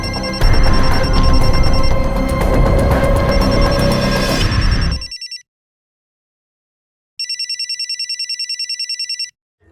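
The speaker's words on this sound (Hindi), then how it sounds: "मैं तो फोन नहीं लाई. तो मेरा भी नहीं बज रहा है. तो किसका बज रहा है?" A loud mobile phone ringtone chirps in fast repeated pulses, first under dense noisy music, then alone after a short silence.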